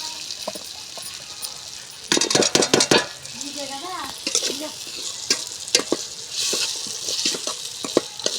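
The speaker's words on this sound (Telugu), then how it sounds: "ఇప్పుడైతే మామిడికాయ ముక్కలు కూడా వేసేసుకుందాము" Raw mango pieces are tipped into a hot pan and stirred as they fry, giving loud bursts of sizzling and scraping with clinks of utensil against metal, then settling into a steady crackle between stirs.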